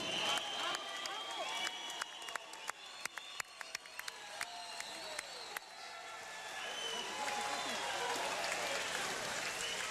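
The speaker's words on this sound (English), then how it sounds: "How about a big round of applause for the real warriors, the United States servicemen and women." Applause from an audience honouring United States servicemen and women, with bursts of clapping and a few sharp claps over crowd noise and cheering, with voices in the crowd throughout.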